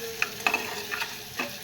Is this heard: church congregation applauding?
no